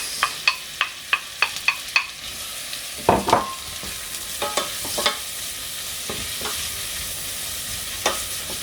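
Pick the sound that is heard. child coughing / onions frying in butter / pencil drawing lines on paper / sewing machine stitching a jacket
onions frying in butter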